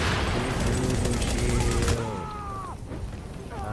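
Rapid gunfire in the shooter game The Division crackles steadily for the first couple of seconds, mixed with talk and game effects, then fades as voices and electronic tones take over.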